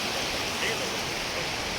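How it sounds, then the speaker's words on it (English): A river rushing at a confluence where two rivers meet fills the air with a loud, even roar of flowing water, broad and constant with no breaks. "We've come at last to where our river meets this river."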